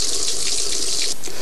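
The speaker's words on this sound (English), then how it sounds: "provides lashings of economical hot water for all my household needs at the turn of a tap" Hot water runs from a household tap in a steady, loud, hissing gush that splashes into a basin for the whole moment and cuts off briefly near the end.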